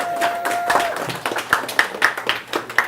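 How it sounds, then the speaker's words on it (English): A small audience claps after a call to applaud a four-day Thanksgiving weekend: scattered, uneven claps that thin out into a few separate strikes within three seconds. "Clap it up for me."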